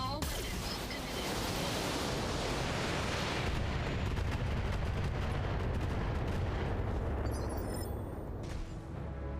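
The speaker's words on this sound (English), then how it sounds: "long-range missiles work here. All weapons committed." A volley of long-range missiles fired from a mech in the Battletech video game, producing a dense, continuous roar of launches and blasts that stays loud and steady for several seconds.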